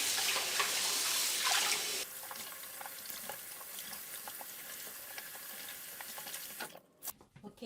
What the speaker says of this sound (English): I'm gonna wash off all the salt, so approximately just twice